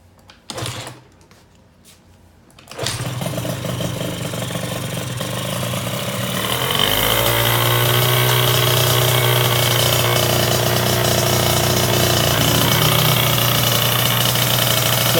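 A 2-stroke scooter engine with cold-blooded CP cylinders starts up after a few clunks and settles into a loud, steady idle, warming up with the choke on, droning up close with no talk.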